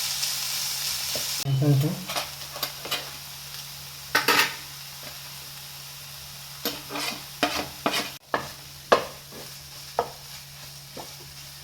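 Paneer paratha filling heated in a pan, with light sizzling under scattered sharp scrapes and clinks of a spoon stirring against the pan, brief speech near the start.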